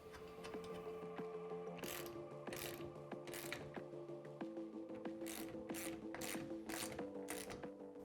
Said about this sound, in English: And we can go ahead and tighten these down.